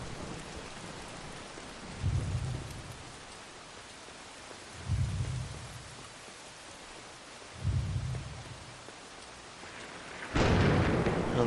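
A dark, stormy night in Brothers: A Tale of Two Sons, with steady rain hiss and three low rumbles of thunder at regular intervals, then a louder crack and downpour swell at the end; no voices.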